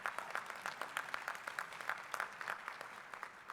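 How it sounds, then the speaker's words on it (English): Applause for luncheon organizer Vince Lombardo at a law alumni recognition luncheon, a moderately quiet patter of clapping from a modest crowd, steady and unbroken for a few seconds. "He is phenomenal and deserves a round of applause again"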